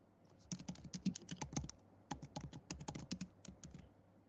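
Quick bursts of keystrokes on a computer keyboard in an office setting, two close, clicky runs of typing separated by a short pause, with no voices.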